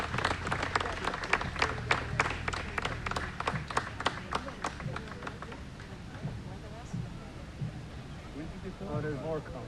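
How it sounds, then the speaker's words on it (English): Parade spectators clap and cheer as a community volunteer ambulance corps passes. The claps and beats come in a rapid, fairly loud burst for the first half, then thin out while people talk nearby. "Give them a big round of applause."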